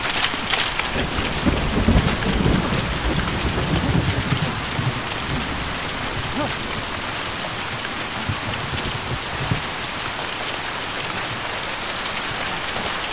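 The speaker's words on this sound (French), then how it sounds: "Attendons! Peut-être que la pluie va s'arrêter. En général, les orages sont courts." Steady heavy rain pours throughout a storm scene in a film, with low rumbling thunder rolling in the first few seconds and a dense, constant hiss of falling water, no voices.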